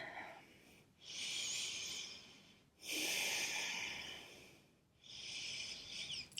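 Slow, deep breaths drawn while standing still during a yoga session: three long, airy, close-up inhale-exhale cycles with soft pauses between them, no talking.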